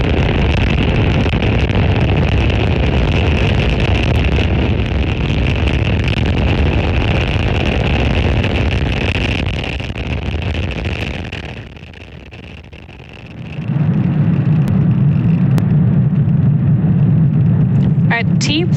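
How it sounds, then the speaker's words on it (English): A SpaceX Falcon 9 rocket roars after liftoff from Space Launch Complex 40 at Cape Canaveral, Florida, a steady broadband rumble like distant engine and wind noise that dips briefly before a deeper low rumble returns. "Falcon 9 has successfully lifted off from Space Launch Complex 40 from Cape Canaveral, Florida"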